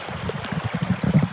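River water in Pielachtal, Lower Austria, gurgles and burbles in quick, uneven low pulses, close by and moderately loud, with no voices over it.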